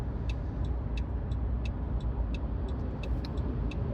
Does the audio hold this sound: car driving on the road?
yes